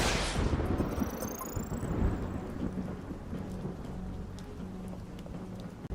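Thunderstorm with heavy rain in the video game UnMETAL, set at a dock with containers by a slightly rough sea: a loud rolling thunder crack at the start, then steady dense rain hiss with low rumbling throughout.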